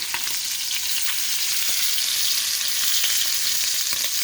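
Scallops sear in sizzling garlic brandy butter in a hot pan, a steady close crackle broken by small taps and scrapes as the pieces are flipped one by one.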